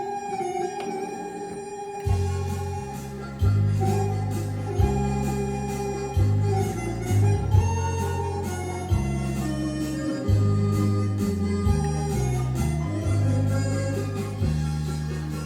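Thomas Classic Floridian electronic organ playing a steady rhythmic accompaniment with bass and chords under a sustained melody, continuous and fairly loud with no voices.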